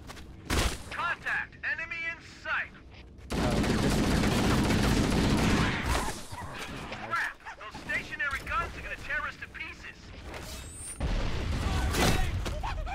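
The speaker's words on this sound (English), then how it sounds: "I always want to use the stationary gun against them." A stationary gun fires in Halo CE, with a sustained loud burst of rapid gunfire followed by another burst near the end, broken by combat noise and voices.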